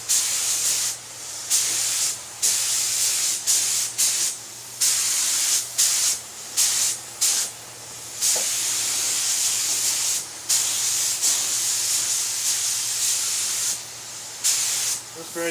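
Spray gun laying a light tack coat of paint on small Trans Am parts, loud hissing bursts in quick repeated passes with brief gaps between them, close up.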